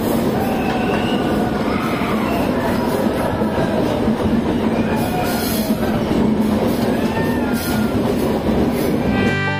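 A passenger train on the Araku Valley line runs through tunnels, giving a steady, loud rumble of wheels and carriages that holds throughout, with faint squeals and clatter on top.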